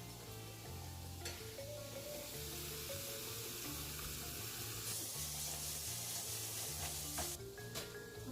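Jackfruit for BBQ sliders cooking in a pan: a continuous soft sizzle and frying hiss with occasional stirring sounds, quiet and steady throughout over faint background music.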